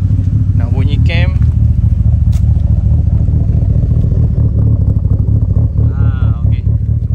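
A retuned Proton Wira GSR engine idles loudly with a choppy, uneven lumpy cam rhythm, rumbling steadily close by while a few people talk briefly over it.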